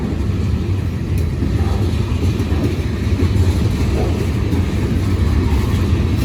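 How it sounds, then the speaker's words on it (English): A long CSX freight train with heritage-unit locomotives and distributed power running through a street, giving a loud, steady low rumble and drone of engines working hard up close, without break or talk. "Those locomotives are working hard."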